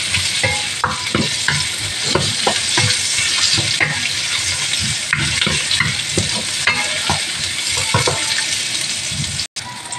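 Onions sautéing and being stirred in a pan for beef bulgogi with mushrooms, a steady close sizzle with repeated scraping stir strokes throughout, no talking.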